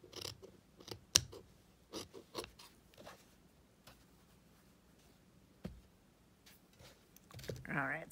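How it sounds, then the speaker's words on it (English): Scissors trim excess fabric from a crazy quilt block, giving a scattered series of faint, crisp snips and clicks spread over several seconds, with a soft rustle at the end. "Cut off the excess is what I mean."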